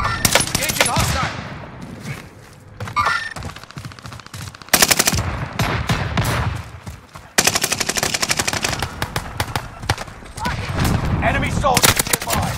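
Gunfire in a first-person shooter video game: long loud bursts of automatic rifle fire with brief pauses between volleys, close and dense, with faint voices between the shots.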